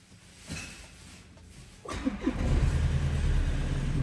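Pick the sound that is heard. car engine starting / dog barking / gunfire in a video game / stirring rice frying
car engine starting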